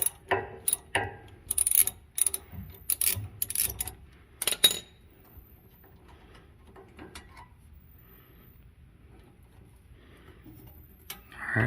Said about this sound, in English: Need a 10 millimeter socket to do so.